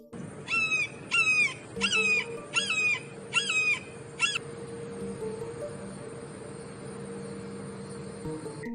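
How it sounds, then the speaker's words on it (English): An eagle gives a series of about six sharp, repeated chattering calls in quick bursts, fairly close and clear, followed by steady background hum and insect-like buzz. "Eagle."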